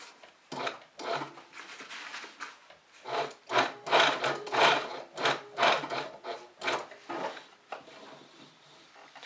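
Sewing machine stitching a box X stitch: bursts of mechanical whirring and rubbing in short runs with brief pauses, close and moderately loud, with no talking.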